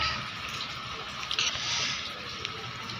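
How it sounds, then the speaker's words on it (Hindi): A running household tap pours steadily while a child washes hands, a continuous hiss of water with faint splashing throughout. "नल बंद करो, पानी वेस्ट हो रहा है। मम्मा मैं हाथ धो रहा हूँ।"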